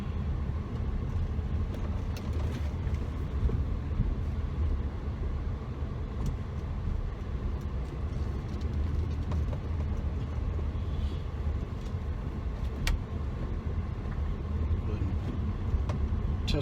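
A 2007 Hyundai Azera drives and turns around in a cul-de-sac, a steady, fairly loud broadband rumble of engine and road noise heard from inside the car with no clear changes, and no talking.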